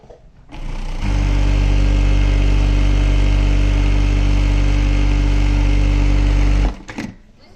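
A fully automatic stepper-motor sewing machine with thread trimming starts up and runs at high speed with a loud, steady droning whir, then cuts off abruptly near the end.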